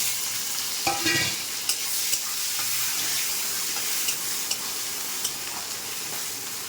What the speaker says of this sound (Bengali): এবার একটা টমেটো দিয়ে দিচ্ছি।